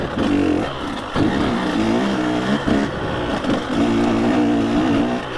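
A KTM 150 SX two-stroke dirt bike on an off-road trail revs hard and close, its engine note rising and falling in quick bursts as the rider works the throttle and shifts, with no talk.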